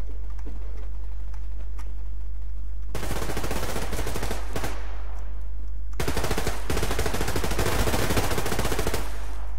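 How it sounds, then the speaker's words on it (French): Gunfire in the online shooter Survarium, two long bursts of loud rapid automatic fire separated by a brief quieter gap, with a low constant hum beneath. "ça tire en haut"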